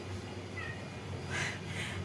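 A house cat meows indoors, giving two short, faint rising calls close together over quiet room hum, with no voices heard.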